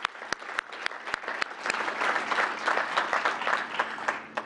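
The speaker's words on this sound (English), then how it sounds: "Let's give them a round of applause." A welcome-home ceremony crowd applauds local elected officials, with a few sharp individual claps up front swelling into full, steady clapping that sounds a little distant and roomy.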